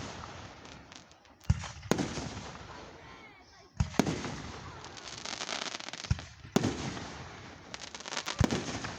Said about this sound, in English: Yes, folks, fireworks are so beautiful, aren't they?